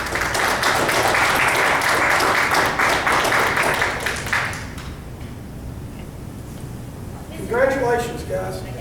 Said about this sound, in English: So let's give these fine engineers a nice round of applause.